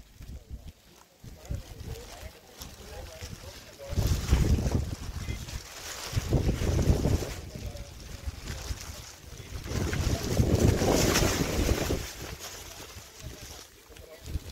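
Wind and mist sweep across the hilltop at Illikkal, with strong gusts buffeting the microphone in roaring surges that rise and fall several times between quieter lulls.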